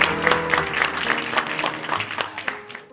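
Audience applause fills a room at a French cycling and fishing club's season review, with steady overlapping claps that slowly thin out and fade toward the end.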